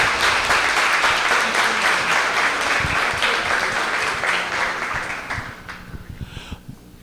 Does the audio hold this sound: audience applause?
yes